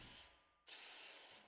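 Two bursts of spray from a cleaner bottle filled with cooking oil in the game Space Station 13, each a loud hiss lasting about half a second, separated by a short pause.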